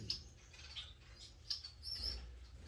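Small finches in a breeding aviary where Bengalese and Gouldian finches are kept, giving faint high chirps and tweets scattered irregularly over a quiet background, with no talk.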